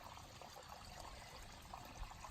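Stream water pours steadily into a dirty water bag outdoors, a continuous broadband trickle and gush with no talking over it.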